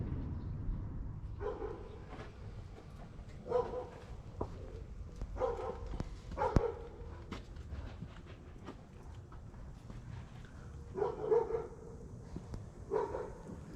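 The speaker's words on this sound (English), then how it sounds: "An old harmless dog." An old dog barks outdoors in Holbrook, Arizona, several separate woofs spread across the stretch at moderate distance, over a low rumbling background.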